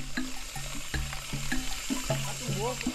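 Mountain spring water splashing and gurgling steadily, bubbling and dripping close by, with a few faint voices underneath.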